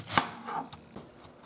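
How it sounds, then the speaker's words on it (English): Knife chops through onions on a cutting board, a few sharp, close strikes spaced irregularly with one loud hit near the start. "we're chopping some onions"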